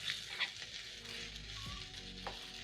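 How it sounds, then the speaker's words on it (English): Onions and garlic sauté in a pan for a meat pie filling. The sizzle is soft and steady, with a few stirring scrapes and clinks close by, and no talking. "Saute until everything is nice and soft and very fragrant."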